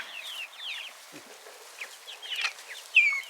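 Rhode Island Red chicks exploring an outdoor run, giving scattered short clucks and chirps at moderate distance, with a louder squawk near the end.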